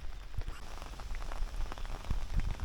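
Wind-driven rain falling during a fishing outing, with scattered drops pattering on nearby surfaces over a soft, uneven background hiss.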